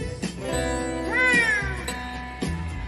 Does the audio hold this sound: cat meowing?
yes